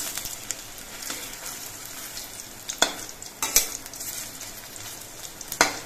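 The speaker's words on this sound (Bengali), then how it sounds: "পকোড়াগুলো এক পিঠ কিছুক্ষণ ভাজার পর আমি উল্টে দিচ্ছি।" Shrimp pakoras (fritters) frying in hot oil over a lowered gas flame, a steady soft sizzle with several sharp clacks and splashes as pieces are turned, no talking.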